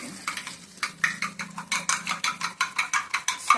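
Eggs being beaten for an omelette: quick, steady scraping and clicking strokes of a whisk or fork against a bowl, close and fairly loud, repeating in an even rhythm.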